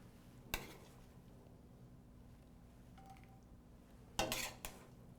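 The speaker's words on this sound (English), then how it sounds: "I'm going to fill my greased casserole dish" Spoonfuls of andouille sausage and black-eyed pea filling, with some liquid, drop into a greased casserole dish, giving two brief clattering scrapes of spoon against the dish amid quiet kitchen background.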